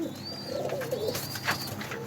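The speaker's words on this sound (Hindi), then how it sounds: "ये जी कबूतर आ गया" Soft, low pigeon coos repeat in a gentle rolling rhythm, close by, with a faint high chirp and light background noise.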